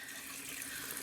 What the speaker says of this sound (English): So I'm going to let this fill up with water